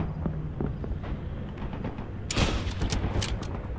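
Rapid automatic gunfire in Call of Duty 3, a dense burst of crackling shots erupting partway through after quieter scattered battle noise, loud and close.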